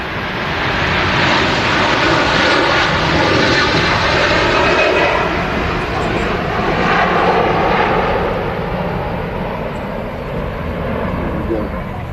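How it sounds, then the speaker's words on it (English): A Delta Airlines Airbus A330-300 with Rolls-Royce Trent 700 engines passes over Manchester Airport, bound from Paris Charles de Gaulle to Seattle, with a loud, sustained broadband engine roar that barely fades across the whole stretch. "Always love the sound of the 330s here at Manchester with them Rolls-Royce Trent 700 engines."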